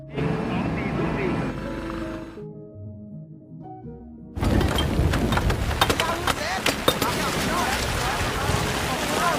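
Heavy rain pours with rumbling thunder, drops away briefly to a quieter gap, then returns loud and dense.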